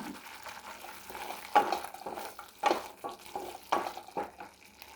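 Cashews frying in a pan over a low flame for pineapple payasam, with soft sizzling and several distinct stirring scrapes recurring at a steady pace, close by.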